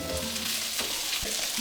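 Chicken cutlets sizzle loudly in a frying pan, a dense close-up hiss and crackle with a few sharper pops and spatters running throughout.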